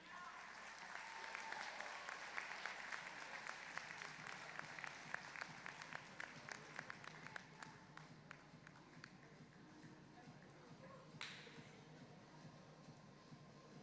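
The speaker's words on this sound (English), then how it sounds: "And round of applause for all 3 of those teams." Audience applause at a FIRST Tech Challenge robotics qualifier in Herndon, a steady wash of many hands clapping from a large crowd that carries on throughout and thins slightly toward the end, with no talk over it.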